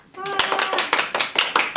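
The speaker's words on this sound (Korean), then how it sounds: "우리 친구들에게 잘했다고 칭찬의 박수를 쳐줄까요?" Young children clap rhythmically together in a bright, close burst of regular claps, with a voice briefly at the start.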